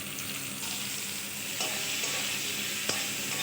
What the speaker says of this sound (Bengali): সেদ্ধ করে রাখা কাঁঠালে বিচিটাও ভেজে নেব